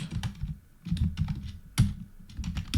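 Fingers type code on a computer keyboard in uneven bursts of soft, close clicks and clacks over a low background hum, with brief pauses between keystrokes.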